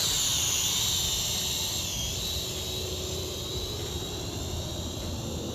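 A Snaptain A15H toy camera drone lifting off, its small rotors giving a steady, loud high-pitched whine with broadband rushing noise that stays constant from start to finish, with no voices.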